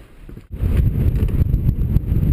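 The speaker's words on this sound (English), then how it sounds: "It's some crazy wind right now. 30 to 40 mile an hour winds." Strong wind of about 30 to 40 mph buffets the microphone at a lakeshore, a steady loud low roar with gusty surges and a brief lull near the start.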